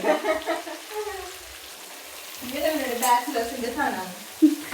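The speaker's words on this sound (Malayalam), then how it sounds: "ജിഞ്ചർ ഗാർലിക് പേസ്റ്റ് ഇട്ട് കഴിഞ്ഞാൽ അപ്പൊ തന്നെ നമ്മൾ പൊട്ടിത്തെറിക്കുന്ന സവാള ഇട്ടു" Onion sizzles in a pan with ginger garlic paste for an easy chicken recipe, a steady hiss and crackle with stirring, under a speaking voice.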